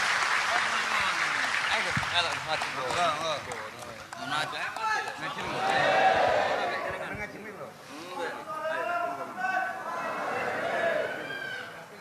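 An audience at an Islamic study gathering claps in a broad, sustained round of applause, mixed with chatter and light laughter from the crowd.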